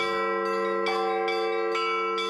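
Russian Orthodox church bells ring with a steady sustained metallic drone, struck again in regular strokes about every half second, loud and close with no voices.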